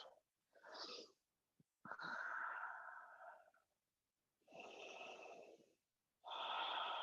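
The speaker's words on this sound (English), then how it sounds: "finding that ujjayi breath" Slow, audible yoga breaths during a vinyasa flow, each long inhale and exhale carrying a soft, hissing, ocean-like rasp, close and unhurried, separated by short silences and with no talking over them.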